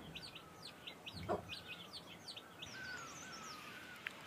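Kalij pheasants in their brushy coop give a run of quick, faint clucks and chirps, with a thin rising call near the end, heard from a modest distance over a quiet outdoor background with no talking.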